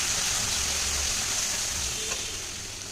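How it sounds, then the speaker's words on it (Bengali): Ground spices sautéing in a pan for mixed rajma, giving a steady soft sizzle with a faint crackle near the end, fairly quiet and with no talk over it. "তো এবার এটাকে আবার একটু কষিয়ে নেব"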